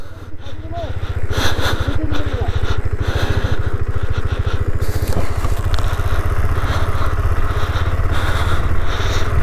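Motorcycle climbing a rough mountain route to Shashi La via Hamboting La in Ladakh, its engine thumping loudly and steadily up close with rattles and crackle, while voices speak over it now and then.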